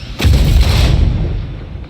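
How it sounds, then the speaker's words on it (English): A grenade bursts in Aliens: Fireteam Elite with a single loud, close boom and a deep rumbling tail that fades over two seconds. "E is the grenade that bursts."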